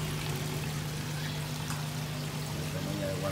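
Water pours steadily over the waterfall of a koi pond filter, a loud and continuous splashing rush with no break.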